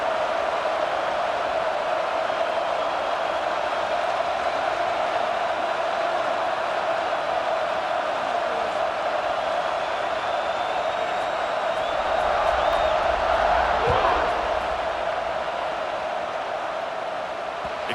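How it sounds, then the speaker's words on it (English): Stadium crowd buzzing in the EA Sports College Football 26 video game: a dense, steady roar of a large crowd held at an even level throughout, swelling slightly near the end. "this crowd is buzzing after that last score"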